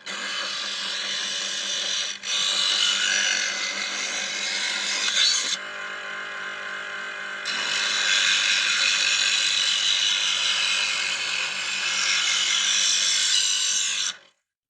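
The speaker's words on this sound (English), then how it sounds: "We turn on the electric sharpener and sharpen it from the first to the third stage." An electric knife sharpener grinds a steel knife blade, stepped through its first to third stages, making a steady close rasping whir with a brief break near the middle and no talking.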